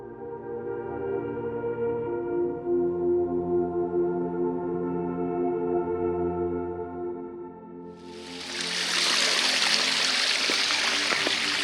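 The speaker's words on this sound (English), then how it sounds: "the sound of water running through the canyon" Water trickles and rushes through a desert canyon in Arizona, a faint flow at first under a sustained tonal hum, then a louder, broad rushing wash that swells in near the end.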